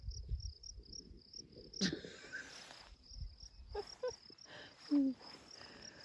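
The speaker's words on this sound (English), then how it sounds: "there's some grasshoppers mating" Grasshoppers in a grass field after a hail storm make a faint, steady high chirping that runs throughout, with occasional soft rustles and bumps nearby.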